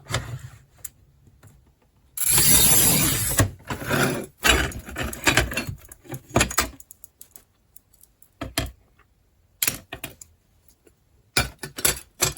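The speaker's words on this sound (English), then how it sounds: "So I'm going to cut a strip here 24 mils wide." Glass cutter scoring a strip of fused glass 24 mm wide along a set guide with lubricated cutting, a loud rasping burst followed by a series of sharp clicks and taps, close up with no talk.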